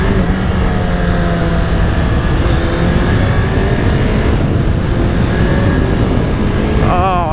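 An original 1985 Suzuki GSX-R750 motorcycle engine roars loudly and steadily while accelerating on a road, its pitch rising through the gears and heard up close, with wind noise throughout.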